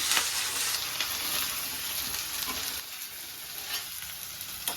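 Sliced onions and green chillies fry in hot oil in a pan for a mutton liver curry, giving a loud, continuous close sizzle that eases slightly toward the end.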